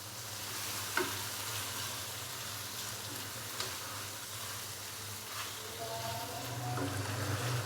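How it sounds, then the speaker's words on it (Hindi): Chicken browns in spices in a pot, giving a continuous moderate sizzle with faint bubbling and a few soft clinks throughout, and no voices. "चिकन को मसालों के अंदर अच्छे से भून लेंगे 5 से 7 मिनट के लिए।"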